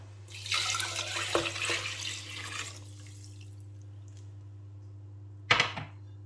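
Water pours from a container into a pot of lentil and butternut squash soup, a steady splashing stream for about two seconds, then a short sharp clatter after a pause.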